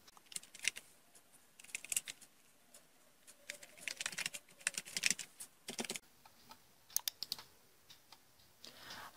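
Keys clack on a computer keyboard as a password is entered, with quiet, close irregular bursts of taps and short pauses between them.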